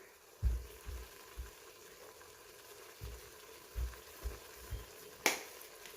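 Honey mushrooms fry in butter in a pan as garlic goes in, a faint sizzle under a series of soft thumps and clicks, with one sharp, brighter crackle near the end.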